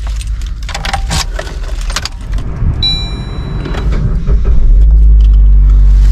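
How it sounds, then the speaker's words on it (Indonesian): Suzuki Ertiga GL manual car: keys jangle in the ignition, then the starter cranks and the engine catches, settling into a loud steady low idle close by. "Ini coba Andi starter deh mobilnya"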